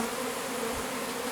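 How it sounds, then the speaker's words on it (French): Honeybees from a large April swarm buzz steadily near the microphone, a continuous, fairly quiet insect drone with no other sounds over it. "Ah, vous avez une abeille sur la caméra."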